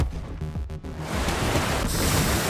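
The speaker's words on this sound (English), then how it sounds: "Waterfall!" Waterfall flowing in the Minecraft Story Mode video game: a steady, loud broadband rush that swells in after brief game tones and then holds constant like surf.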